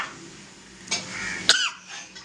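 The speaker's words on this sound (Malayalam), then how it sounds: "ചുമ വരുന്നു." A person coughs twice, a short cough followed by a sharper one, against a quiet indoor background with nothing else going on.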